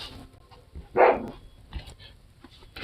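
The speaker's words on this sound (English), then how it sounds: "He's barking with his mouth full" A dog barking with its mouth full gives a muffled, stifled bark, one short loud burst followed by softer grumbling sounds, fairly close.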